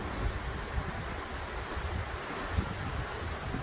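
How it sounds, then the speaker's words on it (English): Steady broadband wind noise roaring against the microphone, with low buffeting gusts and no voices. "we're having to deal with some high winds today"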